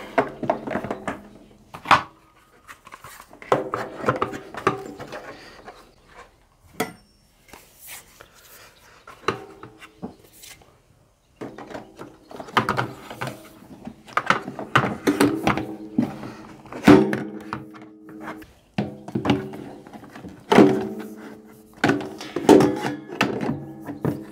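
Plastic accessories for an Einhell TE-VC 2230 SA wet and dry vacuum cleaner are clipped into storage at the back of the unit, giving a series of clustered knocks, clacks and thunks with short pauses between bursts.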